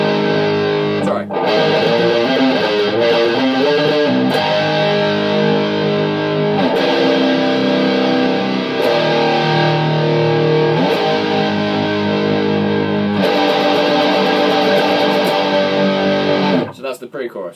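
Heavily distorted electric guitar plays the pre-chorus riff of a song, a dense, sustained wall of chords with occasional sharp chord changes, loud and continuous until it cuts off near the end.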